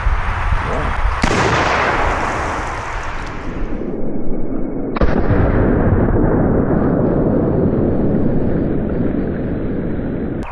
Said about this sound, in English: pretty standard shotgun, 2 3/4 inch buckshot